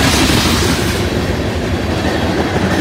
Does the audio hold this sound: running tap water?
no